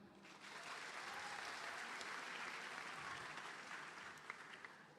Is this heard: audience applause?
yes